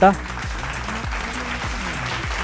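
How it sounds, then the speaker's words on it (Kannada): Loud audience applause bursts out at a Bangalore mango festival, a dense wash of clapping that holds steady throughout, with rhythmic music beats thumping underneath. "ಜೋರದ ಚಪ್ಪಾಳೆ ಬರಲಿ ಪ್ಲೀಸ್"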